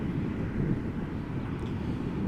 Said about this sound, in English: this is an Embraer 175, KLM flight 1854, arriving from Düsseldorf in Germany